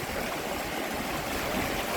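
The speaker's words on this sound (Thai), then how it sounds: "สายน้ำฟาร์มสเตย์ เสียงน้ำไหล" Natural stream water flowing steadily at a farm stay in the countryside, a continuous close rushing wash with no voices.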